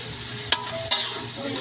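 Eggplant frying in a pan gives a steady close sizzle, with two brief sharp stirring scrapes partway through and no talk.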